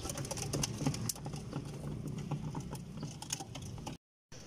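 Pigeons cooing softly on a sun-warmed rooftop, with steady low murmurs, occasional shuffling and clicking steps close by, then a brief drop to silence near the end.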